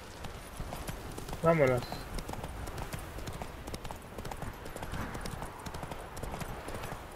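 Horse hooves clip-clop at a quick pace in The Witcher 3 video game, with a brief whinny early on, while someone talks over the steady footfalls.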